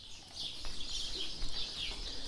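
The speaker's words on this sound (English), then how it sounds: "The trees are filled with birds." Birds singing in trees at a Greek Orthodox monastery, a steady wash of high, faint chirps and trills blending into continuous background song with no voices.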